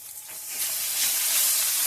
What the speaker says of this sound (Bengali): এবার আমি সব মশলাগুলো ভালো করে একটু কষে নেব।